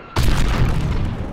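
A fighter jet blows up in a single sudden, loud boom, followed by a heavy rumbling roar that slowly fades, with no voices.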